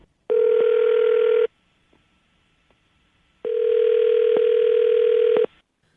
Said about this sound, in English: I'm going to dial his phone number right now and see if we can figure it out